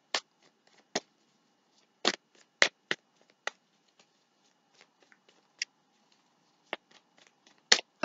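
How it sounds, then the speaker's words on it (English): Tarot cards are shuffled by hand, producing a scattered series of crisp, quick riffling snaps with quiet pauses between them, heard close and alone. "3 more shuffles, see if anything comes out."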